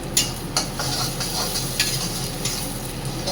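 Ginger paste with cumin and coriander powder sizzles in a pan, a continuous close frying hiss punctuated by spatula scrapes and light clinks, with no talking.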